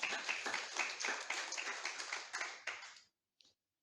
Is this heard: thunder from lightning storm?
no